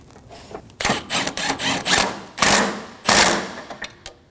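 Bolts on a 2008-2015 Scion xB 2.4L motor mount are run down with a power ratchet or impact tool, sounding as close, loud bursts of whirring and rattling with short pauses between them.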